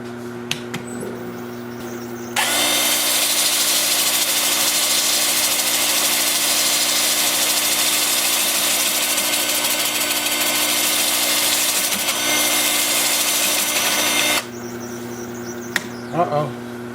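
A wood lathe spins a live edge alder bowl, giving a loud, steady broadband rush that starts abruptly, holds evenly for about twelve seconds, then stops, with a low motor hum underneath throughout.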